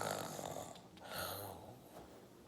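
A voice imitates a sleeping bear's snoring during a children's story reading, a steady breathy rasp that rises and falls across the moment, fairly close and alone.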